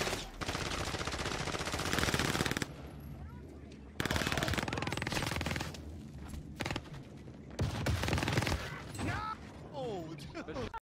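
Rapid bursts of PPSh submachine gun fire in the shooter game Warzone, loud and repeated in several volleys with short pauses, a voice talking over parts of the firing.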